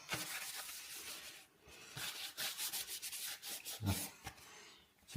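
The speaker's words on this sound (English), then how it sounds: "Wipe that off." A tissue rubs briskly across a Lambretta GP scooter's side panel, giving dry, scratchy wiping strokes in bursts with short pauses, close and fairly loud with no talking.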